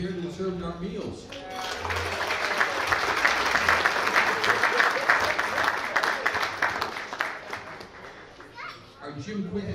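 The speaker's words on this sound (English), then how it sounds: "A round of applause for the people who prepared and served our meals." Diners at a scouts' Hot Stove League dinner give the meal staff a round of applause, a dense sustained wave of clapping that builds and holds for several seconds, with voices heard at the start and end.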